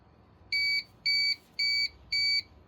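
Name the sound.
UPS battery backup unit beeping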